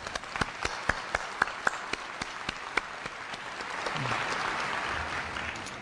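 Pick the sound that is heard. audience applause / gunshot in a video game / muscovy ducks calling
audience applause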